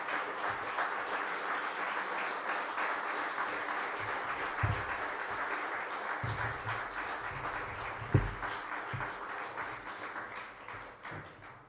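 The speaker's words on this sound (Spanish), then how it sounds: "Dale otro aplauso al Señor." A church congregation applauds together during a Spanish-language service, producing a steady wash of clapping that fills the room for several seconds, with a few louder thumps mixed in.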